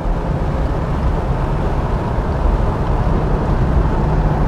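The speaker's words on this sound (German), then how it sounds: "man merkt, wenn ab 4000 Touren der Turbolader einsetzt, wie der Wagen nach vorne schiebt" A 1989 Porsche 911 3.3 Turbo Cabriolet with a 5-speed gearbox drives along with the turbocharger coming on, producing a steady, broad engine and road roar with wind noise and no talking.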